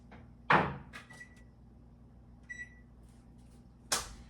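An oven door opens and thumps shut as a breakfast egg and cheese casserole is slid inside, giving two distinct knocks with a brief clink and a short beep between them.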